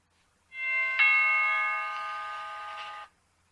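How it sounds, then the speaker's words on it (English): An electronic doorbell chime rings out, a bright, sustained tone that swells once near the start and rings steadily for a couple of seconds before cutting off. "as the doorbell rang"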